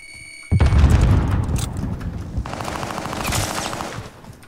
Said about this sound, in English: Sending a frag out.